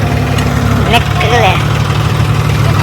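A tractor engine, just pulled free after being stuck, drones at a steady low idle nearby while people talk over it.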